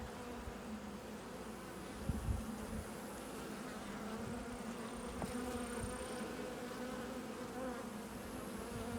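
Honey bees at an open hive, a close, steady droning buzz that stays even throughout, with a brief handling knock early on.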